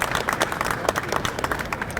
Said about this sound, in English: So big round of applause for all the key players at Mossy Oak.